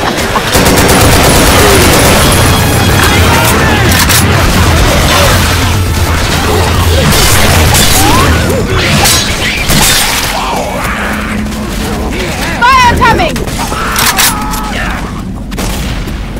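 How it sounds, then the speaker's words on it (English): Loud, dense combat noise from the zombie shooter Left 4 Dead 2, with heavy booms and crashes mixed with gunfire throughout and a burst of impacts near the end. "Here comes the bomb!"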